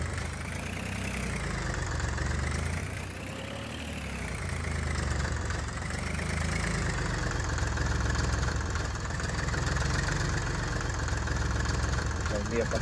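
A tractor engine runs in Farming Simulator 19, a loud, continuous drone that rises and falls in pitch as the revs change, with someone talking over it.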